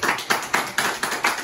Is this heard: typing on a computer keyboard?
no